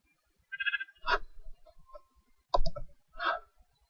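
Sheep bleating in a video game, a few short nasal calls spaced apart over a quiet background, alone with no talk.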